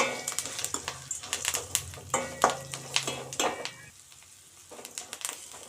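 Spices with salt, turmeric and chilli powder stirred as they fry in a pan for a Tamil aval mixture snack, spoon scrapes and clinks over a steady close sizzle, with no talk.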